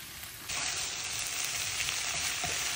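Bottle gourd bhaji fries in a pan. After a brief quieter moment, a loud, close, continuous sizzle starts and holds steady with faint crackles and stirring, and no one speaks.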